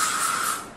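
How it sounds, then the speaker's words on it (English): Bug spray hisses out of an aerosol can in one steady, close burst lasting under a second, at a holiday resort where mosquitoes carry Zika. "We have to put on bug spray"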